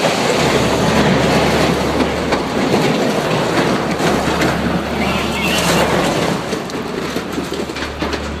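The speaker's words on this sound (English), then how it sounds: "Landslide derails train" A train rolls along the track after a landslide derailment, heard as a loud, continuous rumble with rattling wagons and a low drone. No voices are heard.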